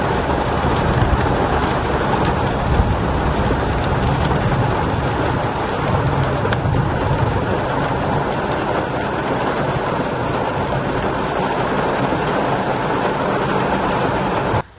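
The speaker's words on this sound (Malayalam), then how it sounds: "ഇവിടെ എത്തി കഴിഞ്ഞപ്പോൾ പൊരിഞ്ഞ മഴ" Heavy rain pours down in a dense, unbroken roar that stays loud and steady from start to finish, with no voices heard.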